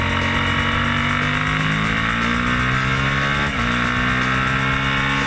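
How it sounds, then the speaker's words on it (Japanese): Suzuki SV650 motorcycle intake roaring loud and close as the throttle opens, a steady strained engine drone rising slightly in pitch over several seconds with a brief dip near the end. "スロットルを開けた時に聞こえてくる吸気音ですね。"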